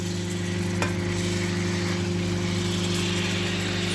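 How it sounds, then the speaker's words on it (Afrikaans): Tomato and onion fry in oil rendered from sausage, giving a steady, close sizzle that stays even throughout with one brief clatter near the start. "Braai ek net so 'n bietjie my tamatie en eie."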